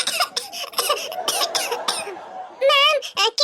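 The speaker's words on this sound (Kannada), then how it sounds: "ಕೆಮ್ಮು ಬರ್ತಾ ಇತ್ತು ಮ್ಯಾಮ್, ಅದನ್ನೇ ಹೇಳ್ತಾ ಇದ್ದೆ ಮ್ಯಾಮ್" An animated child character in a Kannada cartoon coughs in a string of short, sharp bursts, and a voice speaks and laughs near the end.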